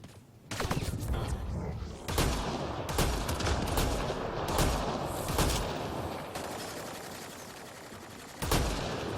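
Enemy gunfire in Mass Effect Andromeda comes as dense, rapid volleys of loud shots and impacts, nearly continuous with sharp bursts standing out.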